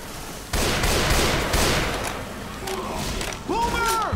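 Rapid automatic gunfire in a zombie shooter video game, loud sustained bursts with thuds, with a voice talking over the shooting.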